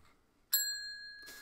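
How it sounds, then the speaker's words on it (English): A single bright electronic bell ding played from a computer, sudden and clear, ringing with a sustained tone for about a second before a brief rush of noise. "You hear that bell? That bell out there."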